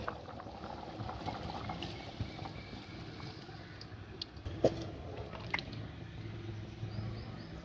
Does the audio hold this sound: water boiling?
yes